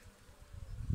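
Honey bees buzzing inside an opened beehive during an inspection of the frames, a low close hum that swells louder toward the end of the short moment.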